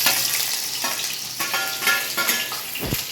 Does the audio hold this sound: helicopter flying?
no